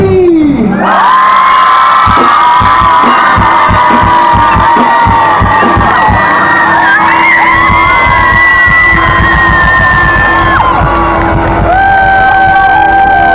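Concert crowd at an outdoor music event in Šternberk cheering loudly, with shouts, whoops and whistles over sustained roaring noise and scattered clapping, continuous and close throughout.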